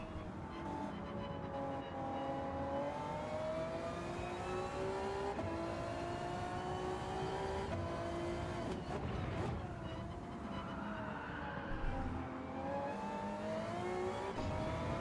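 Race car engine in Gran Turismo 7, a GR3-class car sliding through a corner, droning steadily throughout with rising and falling pitch as it accelerates and shifts, loud and continuous with no voices.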